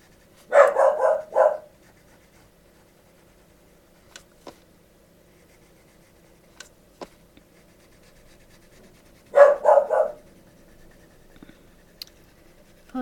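A dog barks indoors in two short bursts of three or four quick barks, one at the start and another about nine seconds later, with faint pencil scratching between them.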